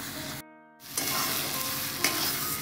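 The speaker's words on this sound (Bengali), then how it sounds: "আমি এইভাবে নাড়তে নাড়তে যখন শুকিয়ে একটু হয়ে যাবে তখন নামাবো" A spicy dish is stirred in a pan as it cooks down and dries, a loud close frying hiss with scraping strokes after a brief dropout.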